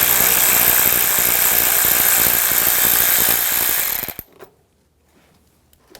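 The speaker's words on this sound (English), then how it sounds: "Remove these two bolts, use a 10mm socket." A ratchet with a 10mm socket works bolts loose on a 2009-2013 BMW 328i xDrive 3.0L inline-six, a close, steady mechanical clicking that runs continuously and then stops abruptly, leaving near silence with a few faint knocks.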